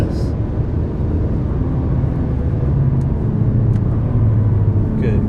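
A Nissan R35 GT-R at about 134 mph gives a continuous deep engine and road rumble from inside the cabin, loud and steady, with faint wind noise above it.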